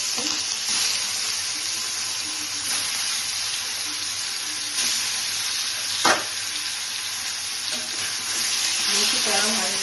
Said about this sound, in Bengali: বেশি কড়া ভাজবো না, ফ্রাই করবো না, একটু লাইট করে করবো, বেশি ডিপ করবো না। এইভাবে একটু ফ্রাই করে নিচ্ছি।